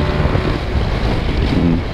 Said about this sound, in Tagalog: Sana narinig niyo yung makina.